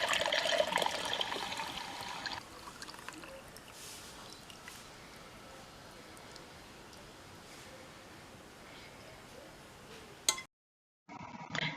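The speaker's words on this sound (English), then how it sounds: "get your strainer and we're going to strain the content into our cup" Boiled cinnamon and clove tea is poured through a strainer into a cup, giving a steady liquid trickle and splash that is louder at first, then settles into a quieter stream before a brief clink near the end.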